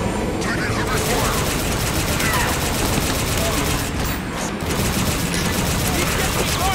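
Heavy, continuous gunfire fills a Halo 5: Guardians battle, dense fusillades and automatic bursts with booming impacts, while soldiers shout over the din.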